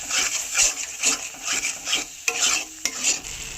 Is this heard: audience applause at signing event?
no